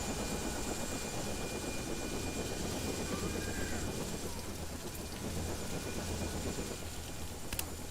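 A helicopter in the video game Splinter Cell Double Agent gives a dense, constant rumbling roar that stays loud and unbroken throughout, mixed with rain-like noise and no talk.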